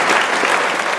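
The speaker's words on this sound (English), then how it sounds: "So a round of applause for Sonia." An audience at a piano competition applauds in a brief, dense burst of clapping heard up close.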